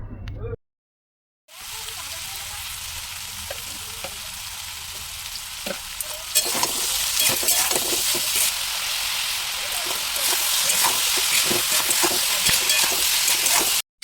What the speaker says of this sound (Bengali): স্বাদ মতো নুন আর কিছুটা চিনি দিয়ে ভালো করে সবগুলো একসঙ্গে ভাজা করে নেব।